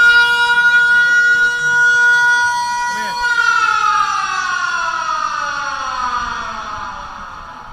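A loud wailing fire brigade siren holding a steady tone, then slowly winding down in pitch as it fades, with faint voices underneath, during a volunteer fire department demonstration in Laage.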